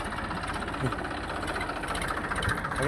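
A tractor's diesel engine idles with a steady, rough chugging rumble, close by and continuous, with no voices.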